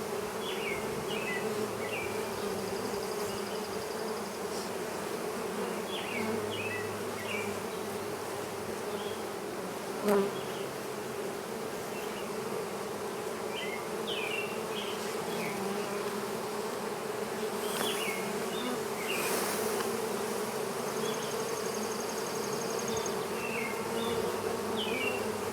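Bees swarm around a box in a cat house, making a continuous, even buzz close by, with faint scattered bird chirps behind it and no talking.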